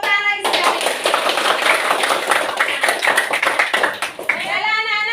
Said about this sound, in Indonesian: Tepuk tangan lagi sekali.